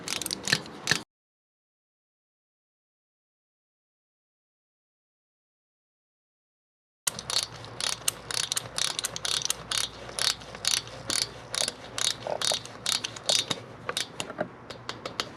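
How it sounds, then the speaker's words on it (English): A torque wrench tightens the lifter block bolts on a Harley-Davidson Milwaukee-Eight (M8) engine to 120 inch-pounds. After a short burst and a long silence, close, steady ratcheting clicks repeat without any talking. "and the lifter blocks go down to 120 inch-pounds. No more nasty plastic. Now we'll torque them down in place."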